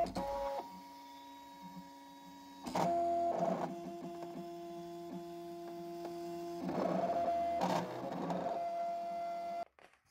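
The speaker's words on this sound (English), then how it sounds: "You just send your FCM file to your scan and cut machine and let it cut it out." A scan and cut machine cutting out a paper CD sleeve gives a quiet, steady motorized hum with tonal whines and periodic louder clunks as the carriage moves, no talking.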